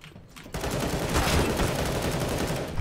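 A burst of video-game shooter gunfire erupts after a brief quiet moment, sustained rapid shots ringing loud and near with no talking.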